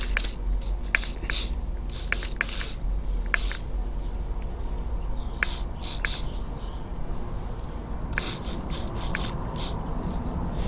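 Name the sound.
spraying brake cleaner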